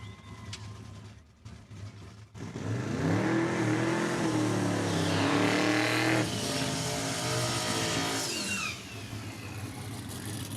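Drag racing cars roar down the strip at a heads-up event, including a 1968 Chevy Camaro, the engine note climbing in loud rising sweeps as they accelerate hard, then fading as the run ends.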